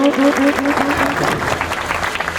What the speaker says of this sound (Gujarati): મિત્રો જોરદાર તાળીઓથી વધાવી લેશું